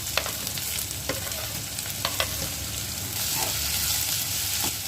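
Chopped onion dropped into hot oil with fried cumin for a raw papaya sabzi, a close crackling sizzle with several sharp clicks of a spoon stirring against the pan, swelling into a fuller hiss near the end.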